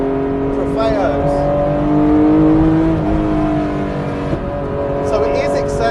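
A Porsche 964 on sticky Pirelli P Zero Trofeo tyres drives along a road, its engine note climbing and easing through gears in a loud, close, continuous drone, with someone talking over it.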